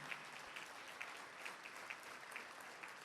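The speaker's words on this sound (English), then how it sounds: "So give yourselves a round of applause." A crowd of Buffalo Bills stadium construction workers gives sustained applause, a faint, distant, even wash of clapping with no pauses.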